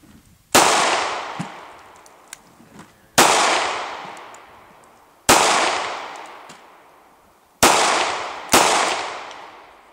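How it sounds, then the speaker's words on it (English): Five sharp, loud revolver shots from an LCR firing Winchester white box .38 Special rounds, spaced a couple of seconds apart with the last two close together, each followed by a ringing outdoor decay. "I was shooting the Winchester white box 38 special"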